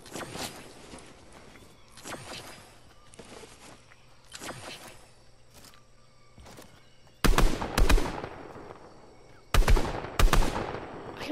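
Gunfire in the Fortnite video game: scattered shots and rattling bursts early on, then two loud, close volleys of rapid fire near the end, with no talking.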